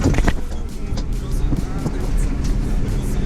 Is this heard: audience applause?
no